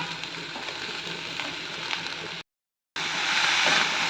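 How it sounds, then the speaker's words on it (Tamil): Continuous crackling sizzle of chopped radish stems sautéing in an oily pan, close up, briefly cut to silence before resuming slightly louder. "பொடியாக நறுக்குனா தண்டை முத போட்டு வதக்கிக்கலாம்"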